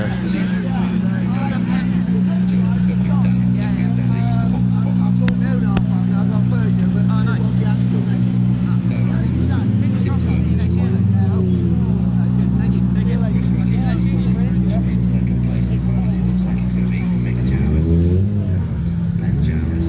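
Rally cars wait at the Donington Park rally stage, their engines holding a loud, steady low rumble that shifts near the end, with background crowd babble throughout.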